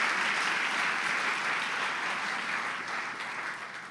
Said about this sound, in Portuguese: E aplauda a Deus pela sua vitória